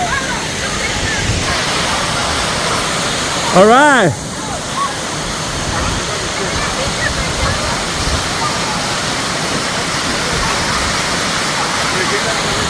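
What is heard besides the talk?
waterfall at Dinkey Creek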